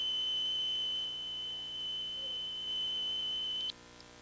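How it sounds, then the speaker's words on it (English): An oxygen monitor alarm sounds inside an orbiter crew module, a steady continuous high-pitched electronic tone that holds for several seconds and then cuts off abruptly, heard alone over a low background hum. "an oxygen monitor like this one will sound off."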